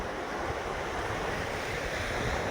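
Sea waves wash continuously onto a beach at sunrise, a dense, steady roar of surf mixed with wind rumble on the microphone, with no voices over it.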